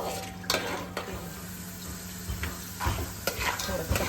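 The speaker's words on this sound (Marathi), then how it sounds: "काजू आणि बदाम तळून घेते." Cashews and almonds frying in ghee in a home kitchen, a soft continuous sizzle broken by several sharp clinks and scrapes of a utensil stirring the pan, close and fairly quiet.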